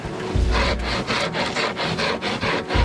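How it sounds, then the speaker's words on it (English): A hand rasp shaping a wooden hunting bow gives steady, rhythmic rasping strokes, close and fairly loud, roughly three per second, with no talking. "So I'm using this rasp instead of the draw knife."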